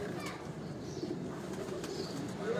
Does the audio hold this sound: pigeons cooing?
yes